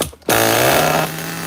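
A twin nitro engine fires for its first start during a night bench test, bursting abruptly into a loud, harsh, high-pitched buzzing roar. It runs steadily at close range, then drops slightly in pitch and level after about a second.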